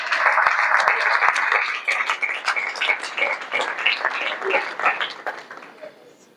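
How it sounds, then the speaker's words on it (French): Applause from a conference audience at the Hotel Rotana, dense clapping that gradually thins out and fades over several seconds. "Aussi, on peut applaudir."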